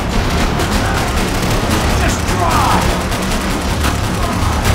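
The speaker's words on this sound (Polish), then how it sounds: "Nie mogę się skupić, jak kule świszczą mi nad głową." Dense, continuous gunfire in the video game Max Payne 3, with rapid bursts and booms, loud and chaotic throughout, with a voice briefly audible under the shooting.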